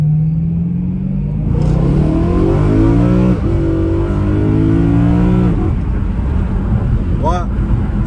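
BMW M3 E92 with DKG gearbox and Akrapovic exhaust revving, heard from inside the cabin: a steady loud engine drone rising and falling in pitch over several seconds, with a quick blip near the end and a voice talking over it.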